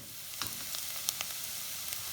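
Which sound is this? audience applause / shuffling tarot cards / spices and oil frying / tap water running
spices and oil frying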